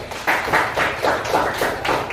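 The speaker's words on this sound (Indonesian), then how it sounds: "tepuk tangan untuk Cahaya" A classroom of junior high students claps for a classmate after her presentation, a loose, fairly close patter of hand claps coming in several uneven bursts over a couple of seconds.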